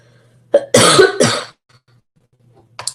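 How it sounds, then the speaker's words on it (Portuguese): A woman coughs up close, giving a short hack and then two harsh, loud coughs in a quiet room, with a faint breath afterward. "Eu vou dar umas tossidas"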